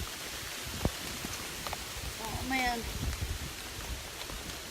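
Rain pouring outdoors in a steady wash of hiss and patter across the whole stretch, with a brief spoken exclamation partway through.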